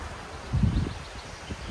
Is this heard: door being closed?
no